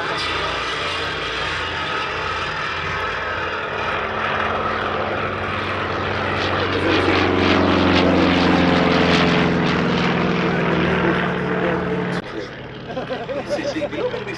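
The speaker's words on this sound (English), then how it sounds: "Taking off the Grumman FM2 Wildcat." Grumman FM2 Wildcat propeller fighter taking off at the Duxford Battle of Britain Airshow, its engine drone swelling loud and rough as it climbs away, with crowd chatter and a commentator's voice around it.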